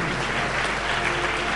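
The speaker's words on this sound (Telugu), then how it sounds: "చప్పట్లు కొడదాం" A church congregation claps in dense, steady applause, loud and close, filling the whole moment with no talking.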